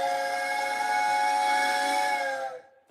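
A steam train's whistle sounds loud and near as the train leaves a station, one long sustained blast that holds steady for over two seconds before cutting off abruptly.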